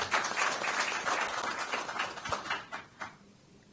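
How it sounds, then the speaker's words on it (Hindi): An audience of the Indian diaspora breaks into applause at a speech, broad clapping that swells early and then thins out into scattered claps toward the end, with no talk over it. "तो पहले तो जरा जोरदार तालियां अपने लिए बजाइए।"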